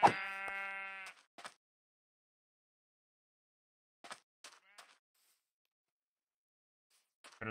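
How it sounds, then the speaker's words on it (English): Sheep in the video game SCP containment survival, one loud drawn-out bleat at the start followed by brief fainter game noises and a short sound at the end, with no talk over it. "Another sheep."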